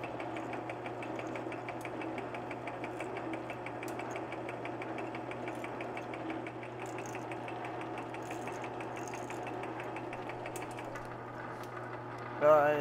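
Metal lathe cutting a thread for a scrap-built rotary table: a steady mechanical hum and rhythmic ticking run continuously at moderate level, with a brief louder clunk at the end.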